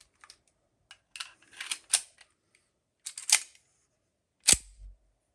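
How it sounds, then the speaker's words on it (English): An AMT pistol with an empty chamber and no magazine is handled and dry-fired: a few light mechanical clicks and rattles, then one sharp, louder metallic snap near the end, close and otherwise quiet. "And you can pull the trigger without the magazine."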